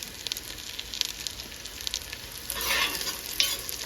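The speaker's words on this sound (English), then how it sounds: "Just saute it for 10 seconds" Green chilies and a bay leaf sautéing in a pan for Kashmiri mutton yakhni pulao: a close, crackling sizzle with quick spatula scrapes and taps, and a brief louder hissing flare near the end, with no talk.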